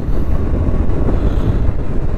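Strong wind buffets the microphone on a motorcycle ride at dawn, a dense, constant roar that fills the whole clip with no talking.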